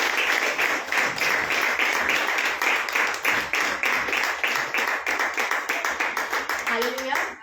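A church audience at a Good Friday service claps to welcome a speaker to the stage, steady rhythmic applause throughout with a brief voice near the end.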